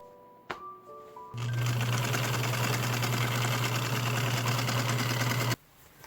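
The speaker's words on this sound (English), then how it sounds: "Then I serged up the sides and the inseam." A serger stitches the side seams and inseam of fabric leggings, running as one steady, loud, continuous mechanical whir for about four seconds after a few small handling clicks, then stopping abruptly.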